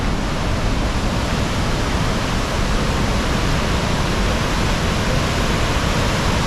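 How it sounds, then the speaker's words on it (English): Water rushes steadily beneath a natural rock bridge in Canada, a dense, even roar filling the whole stretch without a break and with no voices. "the water kind of goes underneath it"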